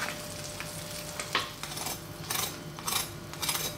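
Chorizo and cheese toasted sandwiches sizzle and crackle in a frying pan, a steady close fry broken by soft scraping and clinks of a utensil against the pan, with no speech.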